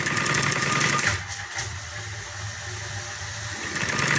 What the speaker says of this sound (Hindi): ये सीधी तरफ रखकर मैं ये सिलाई लगा रही हूँ।